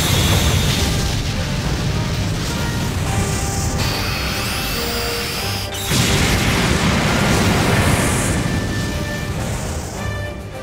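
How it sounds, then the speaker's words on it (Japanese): Main cannon firing and shells bursting against an arena's outer wall in Sakura Wars, heavy sustained booming rumble with sharp crashes and bright sweeping tones, a brief cut near the middle before the roar resumes. "主砲撃て。"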